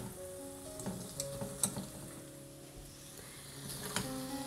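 Boiled, chopped potatoes fry in a pan with a spice masala, tomato and green chilies, giving a soft, quiet sizzle broken by a few scraping stirs and clicks, with no talking.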